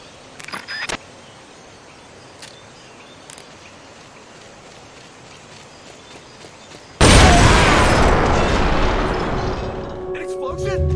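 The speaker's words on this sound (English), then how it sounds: "An explosion?" A loud, sudden explosion in the stealth action game Metal Gear Solid Peace Walker on PSP erupts after quiet ambience and a few small clicks, leaving a sustained roaring rumble.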